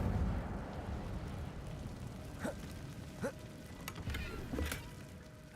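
Incendio fire spell cast in the video game Hogwarts Legacy, a few short whooshing fiery bursts with rising tones over a loud, rumbling game soundscape, close and punchy.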